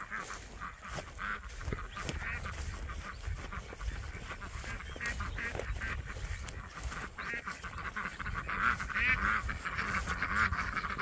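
A flock of ducks quacks and honks continuously at a farm pond as they come in for feed, a busy, steady chorus at moderate distance with no talk.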